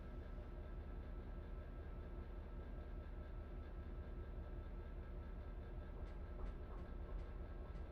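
A Class 68 locomotive hauling nuclear freight in Train Simulator produces a continuous, even rumble of engine and rolling stock, steady throughout with faint ticking near the end.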